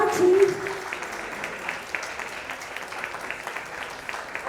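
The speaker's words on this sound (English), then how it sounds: "Can we have a big round of applause for Dr. Prachi?" Audience applause at an indoor pageant showcase, a burst of clapping that is loudest at first and then settles into steady, moderately close clapping with a brief voice at the start.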